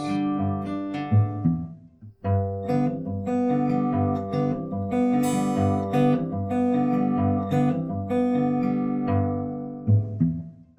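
An acoustic guitar plays a fingerpicked melody of plucked single notes and ringing chord tones at a steady gentle pace, close and clear with no voice.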